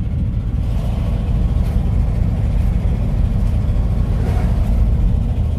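A 1959 Cadillac engine pulling up a steep canyon road in fourth gear, a loud, steady low rumble with constant road noise heard from inside the car, no talking.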